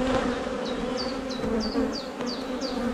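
Honey bees hum steadily around a hive during a spring beekeeping inspection, a continuous close buzz with repeated short higher-pitched whines from individual bees darting past, no talking.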